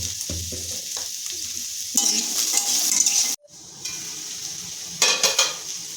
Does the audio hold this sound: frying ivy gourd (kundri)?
yes